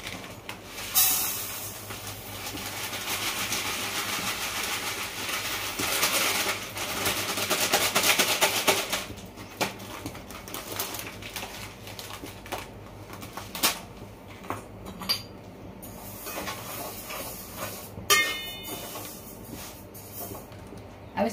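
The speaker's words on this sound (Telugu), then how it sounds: "ఈ అవిసె గింజలు వేయించుకుందాం." Flax seeds dry-roasting in a pan give a steady hissing rustle, with intermittent scraping and clinking from stirring, close and fairly loud, surging midway then settling into sporadic stirring taps.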